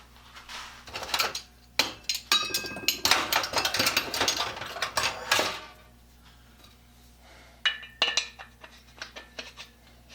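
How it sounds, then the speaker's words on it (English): A steel rivet is struck with a hammer to straighten it, sharp metallic clanks and taps coming in irregular bursts, a dense flurry early on, then a pause and a few more scattered hits. "So I'm going to straighten out that rivet."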